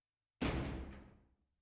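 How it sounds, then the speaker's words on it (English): A basement door swings open in one solid, close burst with a thud-like attack, fading over about a second into silence. "A basement door opened."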